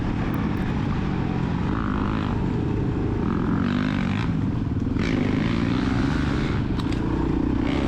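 Suzuki DRZ400E dirt bike engine running in third gear during a cross-country race, a loud, steady droning roar with slight rises in pitch, close and constant throughout.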